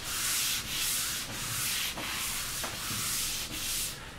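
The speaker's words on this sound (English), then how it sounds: "I'll apply coats and scuff sand in between and keep applying coats." Scuff sanding by hand across a wood finish on the trestle of a picnic-style dining table, a steady loud rasping broken into four or five strokes with short pauses between, close and without voices.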